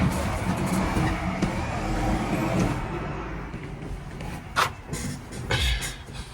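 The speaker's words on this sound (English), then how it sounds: "There's a truck outside." A truck passing outside an open window, a broad rumbling road noise that swells and fades with a couple of brief sharper hisses near the end.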